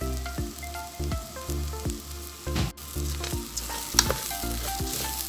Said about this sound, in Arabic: هقلب كده التوابل مع الرز